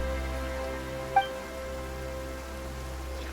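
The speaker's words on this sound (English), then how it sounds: "Why is it raining all of a sudden?" Steady rain falls in Genshin Impact, a fantasy video game, a soft continuous patter under a droning background tone, with one brief chime partway through and no voices.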